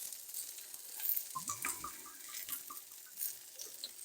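Chicken breast browns in hot oil in a pan, giving a soft, steady sizzle with faint crackles and pops throughout.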